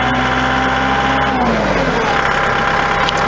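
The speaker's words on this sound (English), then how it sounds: "here we are with the engine running" Up close, the engine of a Mahindra tractor from the 3550 or 4035 models runs at a steady idle, a continuous loud rumble with a slight shift in pitch partway through.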